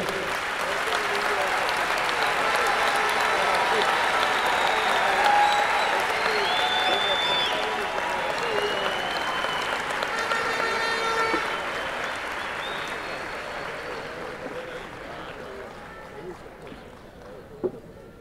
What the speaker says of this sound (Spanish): Aplausos a esta niña que va a nacer.